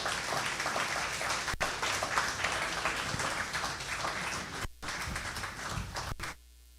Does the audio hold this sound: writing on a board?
no